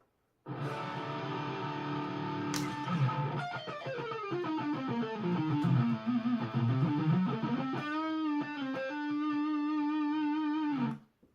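An electric guitar plays a scale with a Boss PS-6 Harmonist pedal switched off, stepping down and back up, notes ringing with a buzzy, saturated tone, then a few sustained notes to finish.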